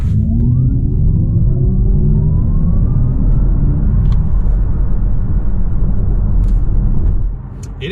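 An Audi e-tron GT electric car pulls away, its motor whine rising in pitch over a heavy low road rumble, close and loud, before easing off at the end.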